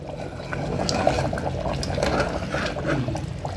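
Water is poured into a pot of mutton curry with drumsticks and raw mango. A steady, close liquid splash and fill continues under a noisy kitchen background.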